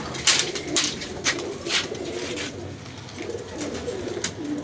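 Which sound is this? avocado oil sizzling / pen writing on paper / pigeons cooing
pigeons cooing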